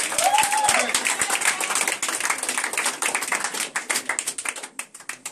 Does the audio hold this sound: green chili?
no